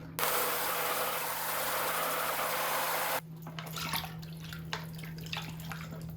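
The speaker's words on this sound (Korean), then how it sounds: "이렇게 해서 물에 한번 담궈보러 가겠습니다" A sealed waterproof item with tissue inside is dunked into a home plastic basin of water: a loud, steady wash of churning water for about three seconds, then quieter scattered drips and small splashes.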